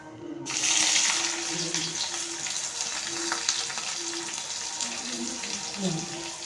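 Thinly sliced onion dropped into hot oil for a spicy mutton gravy, a steady close hiss and crackle sustained throughout, with light stirring sounds and faint talk underneath.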